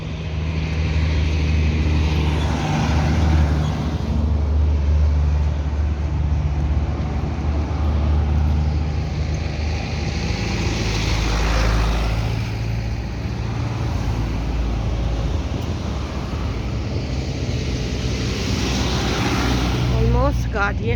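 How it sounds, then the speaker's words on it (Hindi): Steady road traffic with cars passing one after another, a continuous loud rumble close by with a few swelling passes, heard from a roadside as someone sets out from home; talk is faint or absent. "ऑलमोस्ट गाड़ियाँ आती जा रही हैं"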